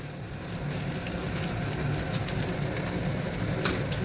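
Dried red chilies fry in hot oil for lemon rice, giving a steady, moderately loud sizzle with faint scattered crackles throughout and no talking.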